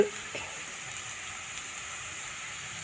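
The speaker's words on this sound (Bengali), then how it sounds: "কাঁচা লঙ্কা দিয়ে আলু ভাজা করছি" Potatoes frying with green chilies in a pan give a soft, steady sizzle with a faint crackle, constant and fairly quiet throughout, with no voices.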